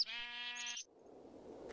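A single Minecraft sheep in the Tekkit modpack lets out one clear, fairly close bleat lasting under a second, then fades into a soft hissing ambient background, with no voices.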